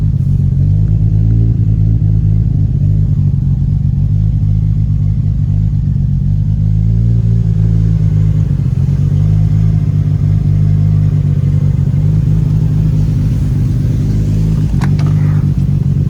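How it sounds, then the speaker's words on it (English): A Nissan Skyline R34 GT-R V-spec idles loud and close with a deep, steady engine rumble, and a slight rise suggests a light rev with the turbo spooling, with no voices. "Give it a little rev. You can hear the turbo spooling."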